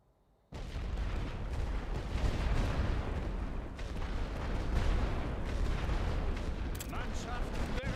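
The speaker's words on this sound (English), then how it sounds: "We're going to use a rolling barrage here" Artillery rolling barrage in The Great War: Western Front, a dense, continuous wall of booming shell impacts and rumbling detonations that starts abruptly and keeps pounding, with a voice talking intermittently over it.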